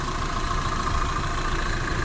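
A Mazda MX-3 engine idles smoothly and evenly at close range, a steady continuous hum with no breaks or rhythmic knocking.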